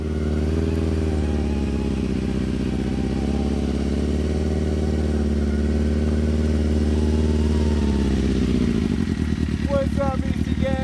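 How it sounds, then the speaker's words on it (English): A small child's motorcycle runs in an open park, its engine droning steadily and shifting pitch as it rides, before settling into a choppy, sputtering idle, while people talk nearby. "we are about to hit the park to try out Jackson's motorcycle"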